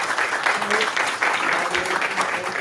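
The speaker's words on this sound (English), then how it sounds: "one last big round of applause" A room full of people at an education board business meeting gives a sustained round of applause, dense, loud clapping throughout with faint voices mixed in.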